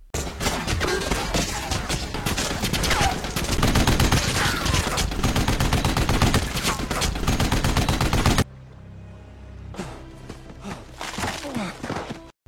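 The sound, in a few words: gunshots in a film being recapped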